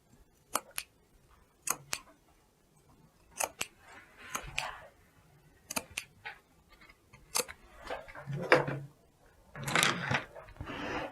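Sharp fabric scissors snip notches into the curved seam allowance of a round-collar dress, close up: single crisp cuts spaced a second or so apart, then a quicker cluster of snips near the end, with no talking.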